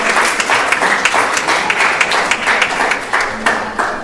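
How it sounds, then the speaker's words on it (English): An audience at a Sunday evening temple gathering gives the teachers a round of applause: a moderately loud burst of clapping with some hands striking in a loose shared rhythm, sustained throughout. "Please give them a big round of applause for taking care of the children so nicely."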